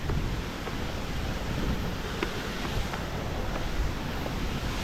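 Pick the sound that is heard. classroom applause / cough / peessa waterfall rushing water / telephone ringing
peessa waterfall rushing water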